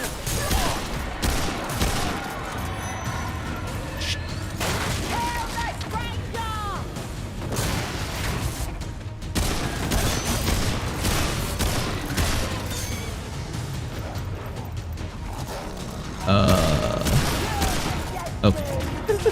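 Rapid bursts of gunfire in the video game Remnant 2, heavy volleys and booms against monster sounds and game effects, with a player's voice talking over the action.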